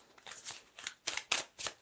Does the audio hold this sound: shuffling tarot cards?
yes